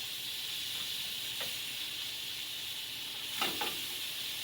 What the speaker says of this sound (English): Put a little more butter in here. Start basting them.